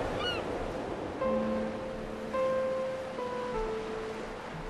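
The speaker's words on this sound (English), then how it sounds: "I've never been as happy to hear seagulls ever." Seagulls call in short cries over the washing rush of waves on a shore in the video game Dear Esther, with a few sustained tones.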